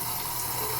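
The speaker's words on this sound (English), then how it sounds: "you rinse your hands" Tap water runs steadily into a sink while hands are rinsed, a continuous close hiss and splash with no pauses.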